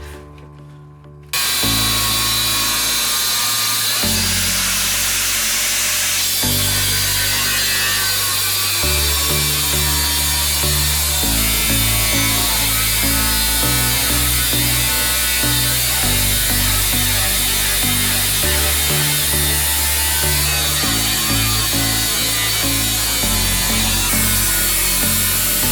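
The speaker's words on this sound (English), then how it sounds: "we've got the angle grinder. This is the Makita." A Makita angle grinder cuts out the metal bulkhead of a VW T4 camper van. After a brief quiet start it runs loud and unbroken for the rest of the clip, its tone shifting in steps as the load changes.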